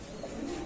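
Pigeons coo softly and continuously at a pigeon seller's, a low, faint murmur over a short moment.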